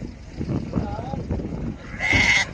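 Lambs and sheep at the Mashtağa livestock bazaar in Azerbaijan give a short, nasal bleat near the end, over crowd murmur and a trader's voice calling prices.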